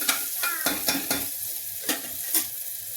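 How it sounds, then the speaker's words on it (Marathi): Onions frying in a pan as they turn brown, with a steady sizzle and a few spoon scrapes and stirs at irregular intervals, close up and without talk. "जेणेकरून कांदा छान ब्राऊन कलरचा होईल ना बबलू."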